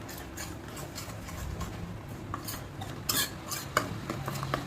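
A utensil scrapes and clinks against a cooking pot in irregular strokes while an egg dish is stirred and left to boil, close and fairly quiet.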